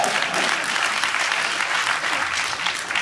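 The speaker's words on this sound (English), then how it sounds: "Thank y'all for clapping." A crowd at a talk on fast food workers and activism bursts into sustained applause, thick overlapping clapping from many hands that holds steady and fairly loud throughout.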